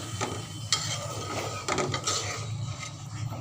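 A utensil stirs hilsa fish frying in a pan with eggplant, steady sizzle underneath and a few sharp scraping knocks against the pan.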